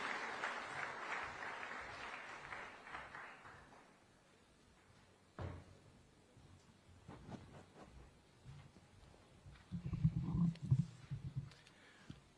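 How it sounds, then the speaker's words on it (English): Audience applause at an outdoor Mazingira Day environmental celebration at State House, a dense wash of clapping for about four seconds that fades out, followed by quieter room noise, a thump and low rumbling sounds. "A round of applause as Arnold makes his way to the stage"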